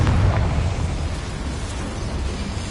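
A dense, rumbling roar of a Confringo blasting spell exploding in the video game Hogwarts Legacy, steady and loud throughout the short burst with no speech.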